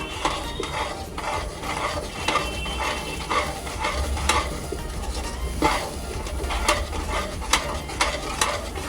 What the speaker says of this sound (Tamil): நல்லா கலந்து விட்டுக்கோங்கப்பா.